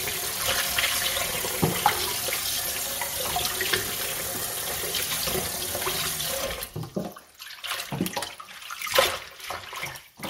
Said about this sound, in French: vous pouvez faire couler de l'eau froide pour vous assurer que la cuisson est arrêtée